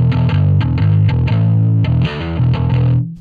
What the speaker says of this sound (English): then you get even more distortion